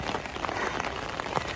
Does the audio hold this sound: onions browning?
no